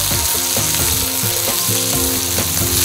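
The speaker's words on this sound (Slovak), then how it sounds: "Meso si po chvíli otočíme na druhú stranu a ďalej opekáme." Beef sears in a frying pan beside fresh rosemary for a braised beef with mushrooms, a loud dense sizzle with a rhythmic scraping of utensils against the pan, steady and close, with no voices.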